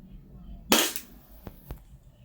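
WE G35 airsoft rifle firing a .20 BB on semi-auto, a single sharp close pop followed by two faint ticks.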